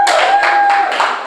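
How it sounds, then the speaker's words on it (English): A comedy audience at a civic theatre showcase breaks into several bursts of clapping, dense and fairly loud throughout, with a faint steady tone running beneath. "Clap."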